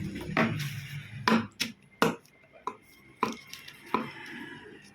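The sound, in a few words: scissors cutting paper blouse pattern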